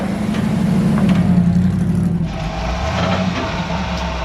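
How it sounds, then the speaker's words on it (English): A 1978 Ford F100 pickup truck on its first test drive, its engine running as a loud, steady low drone that drops briefly midway, as if shifting, then continues from close by, with no talk. "we're going to take this truck for a drive now"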